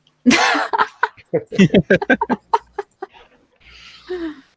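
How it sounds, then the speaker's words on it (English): A person clears their throat with a harsh rasp, followed by a burst of speech and another brief throaty sound at the end. "I'm clearing my throat"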